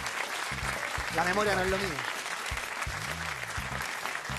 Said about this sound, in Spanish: aplausos bien, para el equipo azul